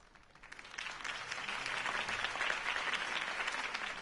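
A crowd in the video game Batman (Telltale) Episode 1 claps and cheers continuously, the applause swelling quickly after a quiet start and staying loud and dense throughout.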